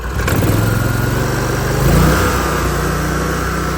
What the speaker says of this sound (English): Get it revved up.